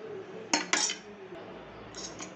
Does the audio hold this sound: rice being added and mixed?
yes